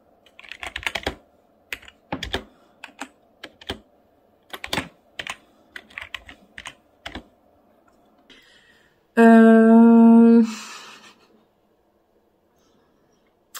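Typing on a computer keyboard while writing a book: close, crisp key clicks in short uneven bursts with pauses, followed by a brief loud tonal hum near the end.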